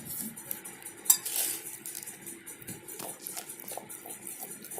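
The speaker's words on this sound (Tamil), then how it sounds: "இது எல்லாத்தையும் சேர்த்து நல்லா கலந்துக்கலாம்" A spoon scrapes and clinks against a bowl while a cauliflower mixture with gram flour is stirred, soft wet mixing under a few sharp metallic taps, one louder clink near the start, close and fairly quiet.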